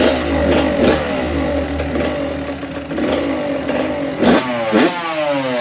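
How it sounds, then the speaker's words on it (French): A motorcycle engine starts and revs close by, a loud, rough idle punctuated by throttle blips, with rising and falling rev sweeps near the end. "Pour ceux qui demandent comment on démarre la moto"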